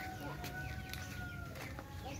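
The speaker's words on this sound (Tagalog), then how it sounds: "Tignan mo nga yung mga manok mo dito, manok." Chickens cluck in a farmyard, quiet scattered clucks and calls under a steady background noise with a faint tonal hum, fairly distant and low in level.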